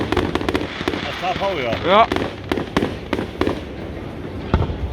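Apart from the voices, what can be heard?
fireworks exploding at the Inselfest in Krakow am See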